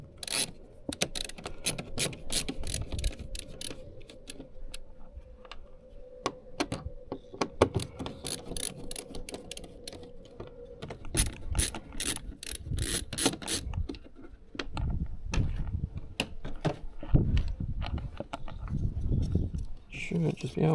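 Screws and clips being undone on the front grille of a VB Subaru WRX, with ratcheting clicks, scraping and plastic rattles coming in quick irregular bursts, up close, while someone talks throughout.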